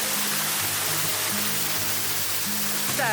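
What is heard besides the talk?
small waterfall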